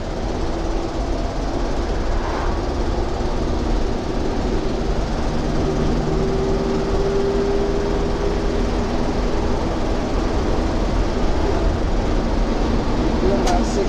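A 1972 International Harvester Travelette 1210 crew cab 4x4 pickup drives in fourth gear, its engine a steady, loud, low rumble with road and wind noise throughout, recorded from inside the cab.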